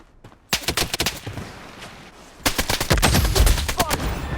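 Gunfire in the video game Blood Strike, with rapid automatic bursts of loud, sharp shots in two clusters separated by a short lull.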